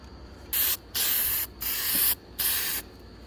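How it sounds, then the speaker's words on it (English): Rust-Oleum color shift spray paint sprayed onto a tumbler in four close, loud hissing bursts of roughly half a second each, separated by short pauses. "we are going to go in with our Rust-Oleum color shift paint"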